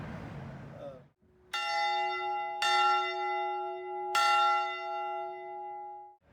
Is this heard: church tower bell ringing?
yes